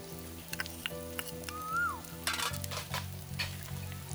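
Onion, carrot, and green, red and yellow capsicum sauté in a pan for veg manchurian, giving a steady close sizzle broken by scraping stir strokes and a few sharp crackles.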